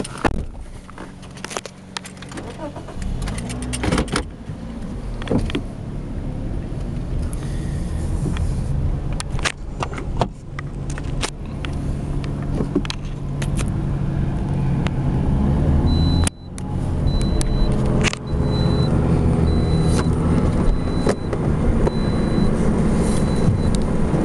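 A car driving on the way to a rental house in Rockwall, Texas, heard from inside as a low engine and road rumble that builds gradually, with a few knocks and shifts along the way.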